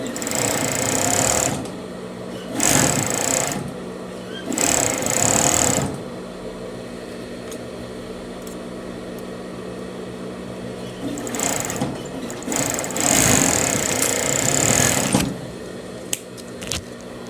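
A sewing machine stitches bias binding onto a pajama neckline in several bursts of rapid whirring, broken by pauses, running loud and close.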